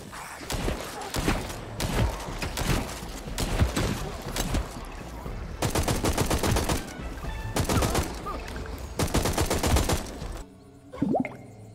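Bursts of gunfire in the shooter game Hawked, several loud rapid volleys separated by short pauses, ending in quieter scattered game sounds.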